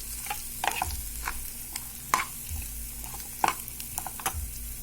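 Onions frying in a pan for buttermilk rasam, a soft steady sizzle broken by intermittent scraping and stirring clatters, close and fairly quiet with no talking.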